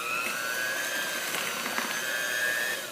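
A steady electric hand mixer whirs and whines as it beats cake mix batter. It sounds close and even throughout, with a slight pitch drift and no voices.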